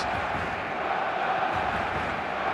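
Full stadium crowd in the eFootball soccer game, a dense, steady roar of cheering and chanting at constant loudness, with no distinct voices standing out.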